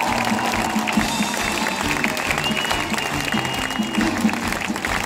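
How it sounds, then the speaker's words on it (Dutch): An audience at the open-air Steengroevetheater quarry theatre applauds director Jasper Korving after a Pirates of the Caribbean cinema show, a steady, dense wash of many hands clapping with a low murmur beneath it throughout. "Mag ik een groot applaus voor onze regisseur Jasper Korving?"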